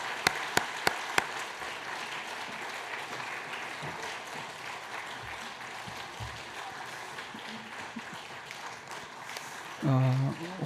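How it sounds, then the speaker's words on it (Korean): Congregation applause during a Christmas church service, welcoming children after an infant baptism. A steady wash of clapping fills the hall throughout, with a few sharp knocks at the start and a short low sound near the end. "인사가 들어갈 때 축복의 박수 부탁합니다."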